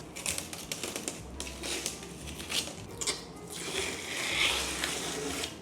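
Protective film peeled off an MSI RTX 5080 Shadow 3X graphics card: a close, continuous crackling and rustling strip with soft crinkly bursts over several seconds, no talking.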